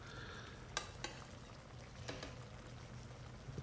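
Tilapia fish frying in a pan for a Thai red curry dish, a quiet steady sizzle with a low hum beneath and a few sharp clinks or scrapes scattered through.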